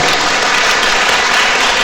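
A congregation at a Catholic retreat talk in Europe bursts into applause, a loud, continuous, evenly dense roar of clapping from many hands with no talking over it.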